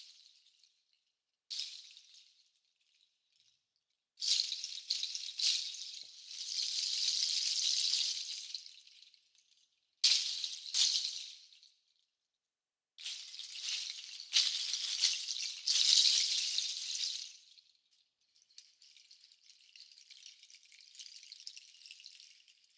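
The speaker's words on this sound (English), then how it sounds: "we conclude with the beautiful warm wooden sound of the cabalonga" A cabalonga, a West African wooden rattle percussion instrument, plays bursts of dry, warm rattling shakes in uneven phrases with brief pauses, close and alone.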